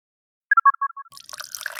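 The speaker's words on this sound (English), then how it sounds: "Now add the water to the salt and sand mixture" Water is poured into a salt and sand mixture in a chemistry lab game: a short run of bright, descending dripping plinks, then a soft splashy pour trickling for a moment.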